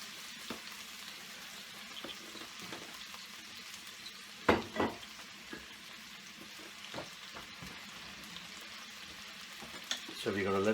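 Cod fillet pieces fry in a pan on a gas stove in a steady, close sizzle, broken by a few sharp clinks of a utensil against the pan partway through and a louder scrape at the end.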